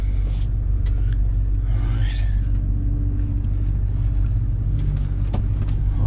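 A U-Haul rental truck pulls away, its low engine rumble steady and close throughout, with faint tonal drone and brief higher whine partway through.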